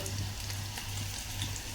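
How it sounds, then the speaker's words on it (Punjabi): Tadka tempering sizzles in a pan during kheer making, a dense, even crackle and fizz heard close up for a couple of seconds with no voices over it. "ਲੋ ਜੀ ਤੜਕਾ ਆਪਣਾ ਹੋ ਰਿਹਾ"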